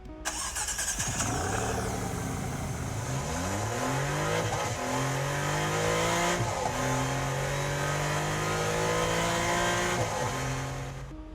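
A car engine starts and revs hard, pitch climbing repeatedly through several gear shifts as it accelerates, loud and close.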